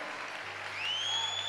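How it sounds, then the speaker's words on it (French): A short burst of a church congregation clapping together during worship, steady and dense, with a faint tonal whistle rising over it partway through. "Bats tes mains, joins tes mains."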